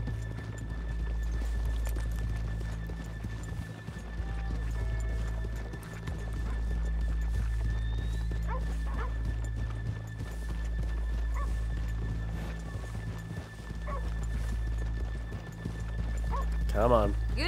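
Horses in the Red Dead Redemption 2 video game clip-clop at a steady walking pace and give a whinny near the end, close by, under a constant low hum and some talking.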